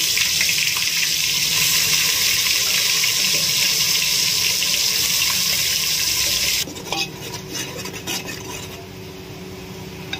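Onion paste fries in hot oil for a dhaba-style hariyali chicken curry, giving a loud, steady sizzle that drops to a quieter crackle with stirring scrapes near the end, and no one speaks.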